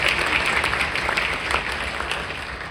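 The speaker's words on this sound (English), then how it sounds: "Let's have a round of applause for Simon as well." An audience gives dense, steady applause for a soloist in a big jazz band. The clapping is even and sustained for a few seconds and fairly close, with no talk over it.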